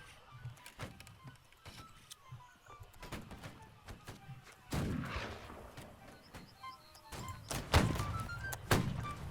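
In the Napoleonic-era land battle game Holdfast: Nations at War, musket shots strike a wooden post, with scattered thuds and several sharper, louder booming cracks at middle distance over faint ambient battlefield noise.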